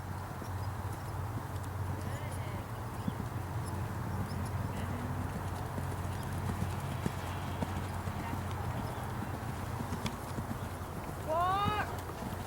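A horse's hooves clip-clop steadily as it walks and then picks up a left lead canter in an arena evaluation, with a brief whinny near the end and someone talking over it.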